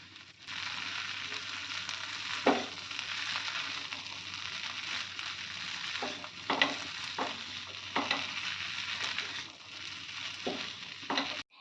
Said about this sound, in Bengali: সব কিছু ভালোভাবে মিক্স করে নিয়ে দিয়ে দেবো আদা বাটা